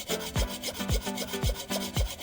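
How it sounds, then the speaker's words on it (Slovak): A hand file is drawn across the sheet-metal mudguard of a Babetta 207 moped to smooth a dent. Rasping strokes repeat in a steady rhythm about twice a second, close and clear with no talking. "toto miesto z opačnej strany kladivom zarovnám a pilníkom jemne dobrúsim"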